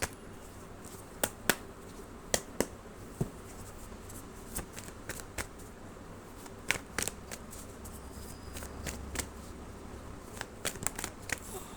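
Tarot cards shuffled by hand, giving sharp, irregular snaps and riffles spaced every second or so over a soft, steady papery rustle, close and alone.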